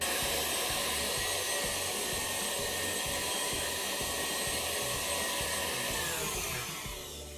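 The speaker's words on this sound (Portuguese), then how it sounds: "E agora eu vou bater essa mistura até ela ficar bem homogênea" An electric mixer beats a gingerbread icing mixture in a bowl, producing a continuous close whirring buzz with a steady rhythmic churn that eases off slightly at the end.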